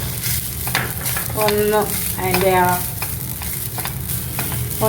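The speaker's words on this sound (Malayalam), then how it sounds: "അതേ പാനിൽ തന്നെ ഒരു ഹാഫ് ടീസ്പൂൺ മതി നെയ്യ് എടുത്തിട്ട് ഒരു 1 കപ്പ് കോക്കനട്ട്, ഗ്രേറ്റഡ് കോക്കനട്ട്" Grated coconut is sautéed in ghee in a pan with a constant soft sizzle, and a utensil scrapes and stirs against the metal in a few brief bursts, close and without speech.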